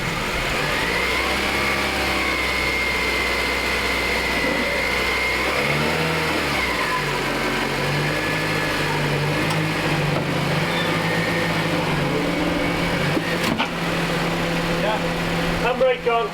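A Honda Civic Type R FN2 engine runs steadily as the car creeps up service ramps, a close, continuous mid-pitched drone with a brief shift in pitch partway through, ending in a few small knocks.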